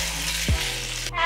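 Seasoned ground beef frying in a pan, a steady sizzle with a brief stirring scrape partway through, close and fairly loud with no talk.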